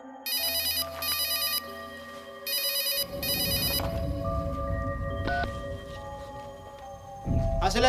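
A phone rings in short repeated electronic trills, bright and close, followed by a low rumbling bed of background noise.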